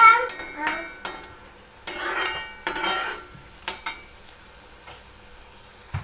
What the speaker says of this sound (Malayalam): അപ്പോൾ നമ്മൾ സവാള അരച്ചത് ഇതിലിട്ടിട്ടുണ്ട്.